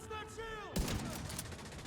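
Gunfire erupts in Division 2 as a sudden loud burst of rapid shots kicks in partway through, holding as a dense continuous volley after a brief stretch of quieter game sound.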